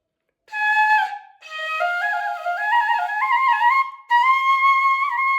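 A small piccolo flute played in its low register, which still sounds high and bright, a continuous melodic line of stepping notes with one brief breath break, close and solo.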